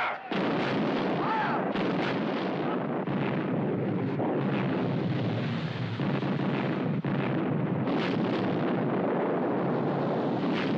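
Cannon fire in a naval battle film scene, a dense, continuous roar of booming blasts and rumbling, loud and sustained throughout with brief louder bursts.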